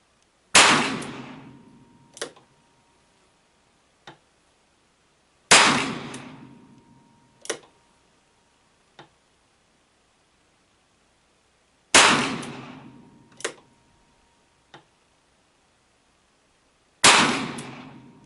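Four sharp .38 wadcutter shots fired from a handgun clamped in a Ransom rest, each a loud crack with a ringing decay, some followed by a fainter metallic clink, spaced several seconds apart with no talking.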